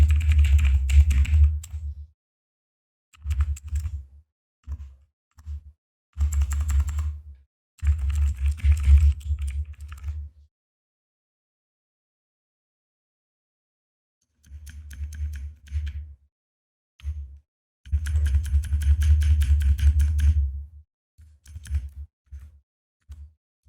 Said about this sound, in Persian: صدا تایپی